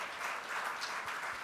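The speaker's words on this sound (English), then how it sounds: "Big round of applause for the very beautiful" An audience applauds at an award ceremony as Aishwarya Rai is honoured, brief, dense clapping heard at moderate distance.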